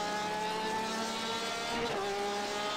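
A Porsche 911 RSR race car in the iRacing simulator holds a loud, continuous engine note with a steady harmonic whine that dips and shifts briefly as it changes pitch, no talking over it.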